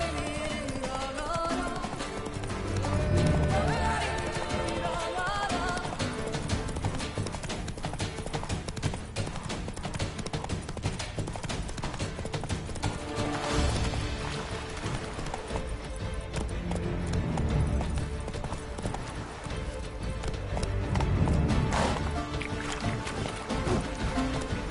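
Horse hooves gallop in a steady, loud clip-clop rhythm throughout, ridden across open ground in the video game The Witcher 3, with game music and ambience layered underneath.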